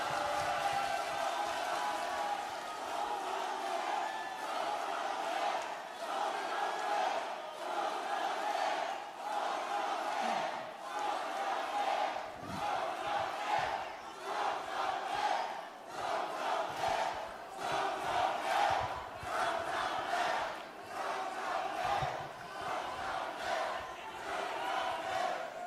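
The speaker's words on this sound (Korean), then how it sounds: "뜨거운 박수로 맞아주시길 바랍니다." A political party convention crowd cheers and chants for a candidate, rhythmic massed voices and clapping rising and falling in waves, loud and fairly distant in a large hall.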